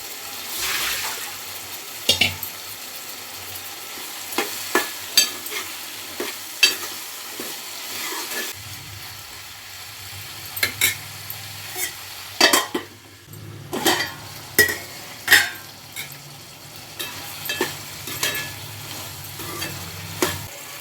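Tomato and brinjal pieces cooking in an oily pan sizzle softly while a spoon stirs and knocks against the pan in repeated irregular scrapes and taps, close by with no voices.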